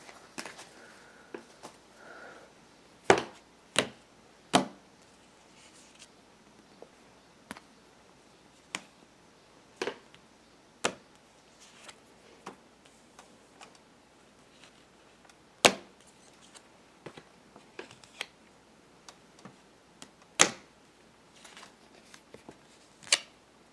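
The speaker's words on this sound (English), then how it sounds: "Just collecting all these cards." Tarot cards are gathered and shuffled by hand, making a series of sharp, isolated snaps and slaps at irregular intervals over quiet handling rustle, with no one talking.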